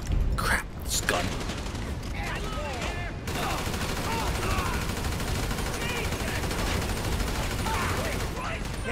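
Sustained automatic gunfire in GTA V, a few loud opening bursts and then a continuous dense firefight that runs the whole length, with voices speaking underneath.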